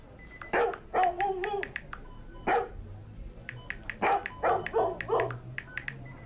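Dog barks several times in short bursts, fairly close, with a whimper-like tone in some, then a faint low hum.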